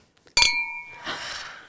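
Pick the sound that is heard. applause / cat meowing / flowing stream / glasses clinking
glasses clinking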